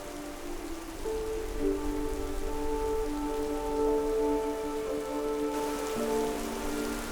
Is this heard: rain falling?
yes